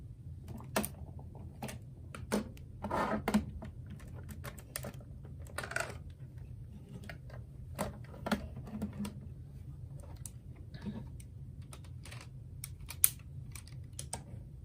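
Small LEGO pieces for a Nintendo Switch build with swappable Joy-Cons clicking and snapping into place, a series of sharp, close plastic clicks at an irregular rhythm over a low background hum, with no talking.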